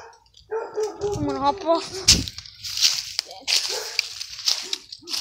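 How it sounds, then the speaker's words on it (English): Several dogs bark and yip near a pond outdoors, short sharp barks and whines scattered through the clip, partly under a person talking. "We have visitors. Lots of dogs."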